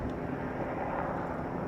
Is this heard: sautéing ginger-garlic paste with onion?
no